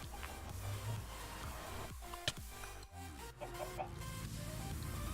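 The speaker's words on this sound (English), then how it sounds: "I think I'm getting assaulted by a chicken every time I enter this nether" Chicken clucks in a Minecraft modded game set in the Nether, a few short clucking calls over a faint low game hum, with small clicks and ticks scattered through.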